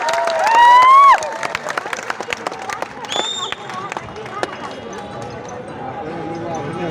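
An audience at the Janakpur literature festival near Janaki Mandir applauds to welcome actor Rajesh Hamal. Dense crowd clapping and some cheering rise under an amplified announcer's voice and carry on after it.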